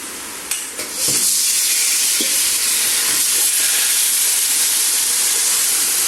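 Pangas fish head pieces added to a hot cooking pot of spiced gourd: a few soft knocks, then a loud steady steamy hiss and sizzle that carries on close and unbroken, with no talk.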